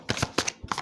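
Playing cards shuffled for a card reading: a quick burst of several riffling flutters within under a second, close and clear.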